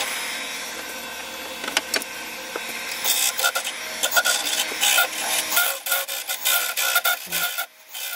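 Tools scrape inside the hollow of a wooden trinket box spinning on a lathe, a continuous close rasping with brief louder catches, working out the forstner bit mark in the bottom.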